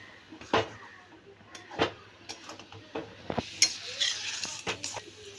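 Spiced banana flower and prawn curry with coconut and homemade garam masala being stirred in a pan at home: scattered scraping and clinking spoon strokes against metal, close and moderately loud, with a few sharper knocks.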